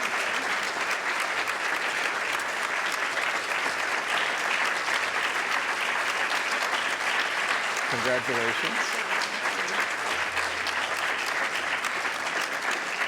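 Sustained audience applause at the 2019 Pearl Meister Greengard Prize ceremony, a dense, even wash of clapping throughout, with a short spoken word partway through.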